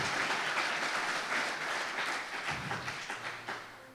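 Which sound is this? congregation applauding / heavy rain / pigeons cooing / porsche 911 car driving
congregation applauding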